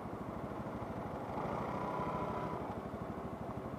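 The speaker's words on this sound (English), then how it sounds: "bring down the revs." A Lexmoto ZSX-R 125 EFI motorcycle sits in traffic with its engine idling in a steady, low, pulsing rumble, faint and muffled, with no voices.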